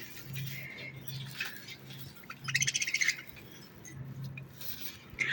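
Pet parrots kept at home chirp in short bright bursts, with a louder cluster of rapid tweets midway and scattered calls throughout over a low background hum.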